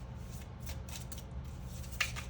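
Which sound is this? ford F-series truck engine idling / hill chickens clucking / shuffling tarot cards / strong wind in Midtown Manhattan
shuffling tarot cards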